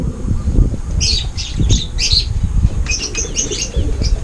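Racing pigeons at a loft during derby training, with clustered wing flaps and squawks in short bursts over steady low background noise, fairly close and loud.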